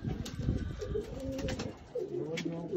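Pigeons kept by a pigeon fancier coo softly nearby, with low throaty warbling calls repeating under some background rustle and faint talk.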